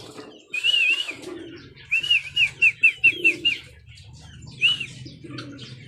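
Pigeons at their loft give a quick run of short, high chirping calls, then one more call a moment later, close by over a low rumbling background.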